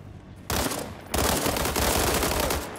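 Rapid automatic gunfire fills a multiplayer shooter match, loud and close, in sustained bursts that intensify partway through with no talking.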